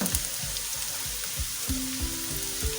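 Onion frying in a pan for kabab karahi, a continuous close sizzle with soft rhythmic scraping and stirring strokes underneath.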